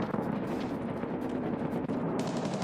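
A video game gun fed by a 100-round magazine fires continuously, a steady roar of rapid shots with no break and no voices.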